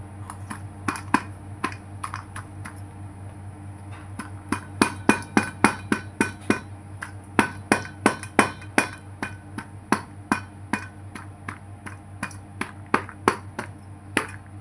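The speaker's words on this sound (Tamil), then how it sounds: "நல்லா நசுக்கி எடுத்துக்குவோம் வெல்லம் தூள் பண்ணிக்கிட்டேன்" Jaggery is pounded into powder for a rice-flour and Nendran banana kozhukattai. Sharp, close knocking strikes repeat irregularly over a low steady hum, growing denser and louder midway.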